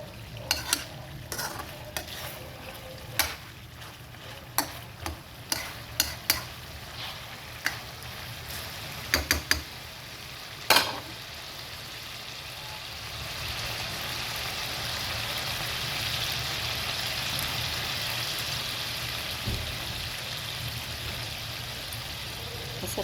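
Chicken adobo sizzles steadily in oil in a pan, with a run of sharp clinks and stirring clatters early on, then a continuous, fuller frying hiss toward the end.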